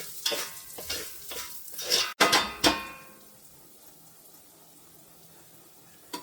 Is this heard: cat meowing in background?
no